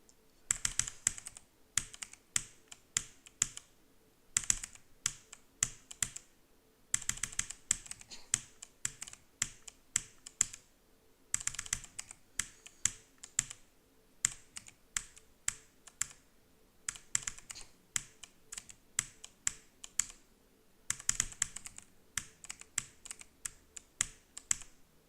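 Steady typing on a computer keyboard, close and clear: bursts of rapid key clicks broken by brief pauses, running throughout with no talking.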